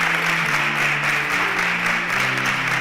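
Audience applause as contestants leave the stage at a student competition show: a continuous, dense wash of clapping over a low sustained background tone.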